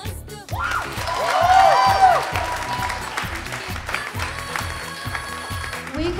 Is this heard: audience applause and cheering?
yes